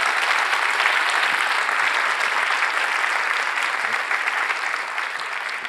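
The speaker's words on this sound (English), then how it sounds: "a big round of applause for everyone that came, every futurist that came here" A big audience at the Dubai Future Forum closing session applauds loudly and continuously, a dense wall of clapping that slowly tapers near the end.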